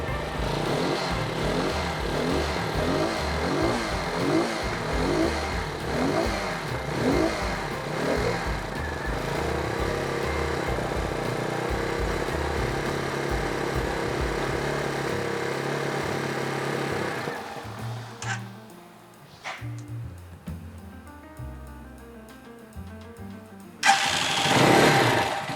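A brand-new Yamaha TT250 motorcycle engine starts and runs with a steady, loud mid-pitched chug, then drops away to scattered clunks and quieter mechanical sounds, with a brief burst near the end.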